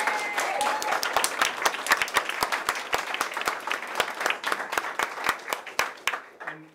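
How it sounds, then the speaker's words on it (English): An audience at a 2014 speech event applauds a tutor: a round of crisp, fairly sparse hand claps, close and steady, thinning out and stopping near the end. "Little round of applause for Leon, please."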